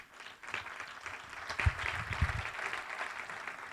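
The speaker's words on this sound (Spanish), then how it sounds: "Denle un aplauso al Señor." A church congregation applauds during a sermon, a moderate burst of many hands clapping that rises after a quiet start and carries on evenly, with a few louder thumps near the middle.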